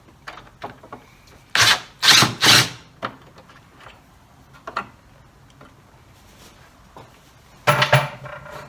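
A power tool with an M10 socket works on fasteners of a 1986 Nissan 300ZX Turbo Z31 airbox, giving short loud bursts of whirring and clicking between quieter ratcheting and handling noises.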